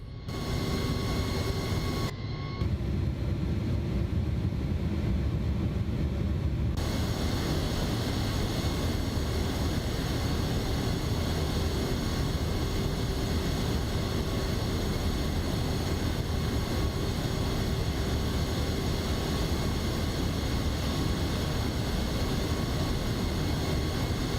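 A steady, loud whine and rumble of an MD-11 freighter's engines as the airliner taxis at low thrust in the X-Plane 12 flight simulator, continuous and unchanging, with a brief dip in the high hiss near the start.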